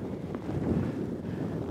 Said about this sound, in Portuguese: Olha, vocês estão vendo, ventando,